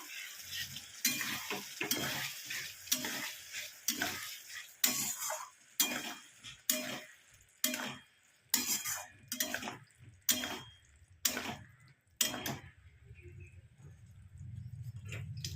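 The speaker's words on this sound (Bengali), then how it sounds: "মশলা কষাতে কষাতে মূলোগুলো দিয়ে দিই।" Radish pieces frying with masala in a pan, stirred in a steady rhythm of repeated scraping strokes over a soft sizzle, close but fairly quiet, with no talking.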